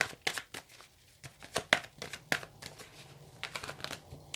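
Tarot cards being shuffled by hand up close, a quick run of crisp riffling snaps and soft slides, fairly quiet with no talking.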